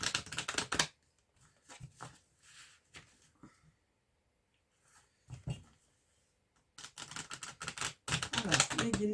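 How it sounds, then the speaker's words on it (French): Tarot cards being shuffled by hand, heard as close, crisp riffling bursts with quieter pauses between them and no speech over the sound. "je vais bien brasser mes cartes"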